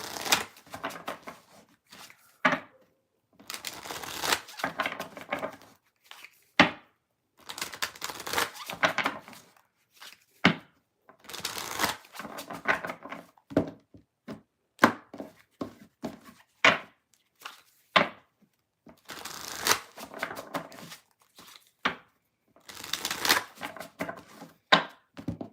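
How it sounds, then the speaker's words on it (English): Cards being shuffled in repeated short bursts, crisp riffling and flicking close by, separated by brief pauses over a long stretch. "All right, let's shuffle."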